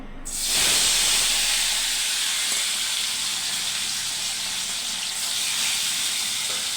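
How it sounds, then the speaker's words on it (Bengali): Fish dropped into hot oil in a wok bursts into a loud, steady hiss and sizzle that holds strong throughout, with no talking. "আর এই যে তেলটা গরম হয়ে গেছে এখন মাছগুলো দিয়ে দিব"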